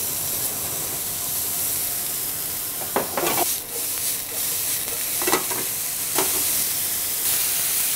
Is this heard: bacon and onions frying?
yes